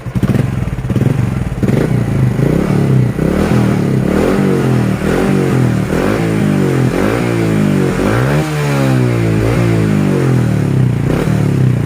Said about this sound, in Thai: เดี๋ยวลองฟังเสียงเบิ้ล